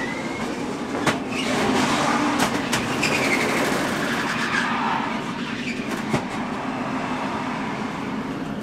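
Steady engine and road roar inside Aric Almirola's NASCAR stock car during a 2014 race, a loud continuous drone with occasional sharp clunks and rattles from the chassis, no voices.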